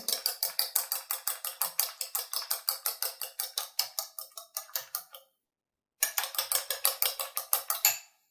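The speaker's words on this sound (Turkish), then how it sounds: "İlk önce yumurtanın sarısını bir çatalla biraz çırpıyorum" A fork whisks egg yolk in a bowl for a homemade hair mask, rapid even metallic clicks tapping at a brisk rhythm, close up, stopping briefly before resuming.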